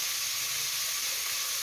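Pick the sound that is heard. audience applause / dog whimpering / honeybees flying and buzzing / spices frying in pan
spices frying in pan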